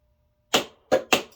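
A diaphragm actuates with the speed knob on, giving three short, sharp pneumatic bursts close by, each ending in a brief decay.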